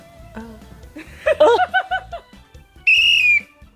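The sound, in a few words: whistle blowing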